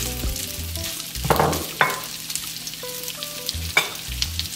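About 500 grams of potatoes fry in melted butter in a pan, sizzling steadily up close with clattering stirs and utensil knocks scattered throughout and no talk.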